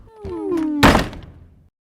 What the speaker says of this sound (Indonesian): Rio membuka pintu dengan keras dan meletakkan dengan kasar box kue dagangan yang telah kosong